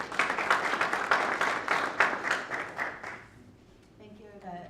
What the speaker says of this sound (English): Round of applause for Kaya for putting this together.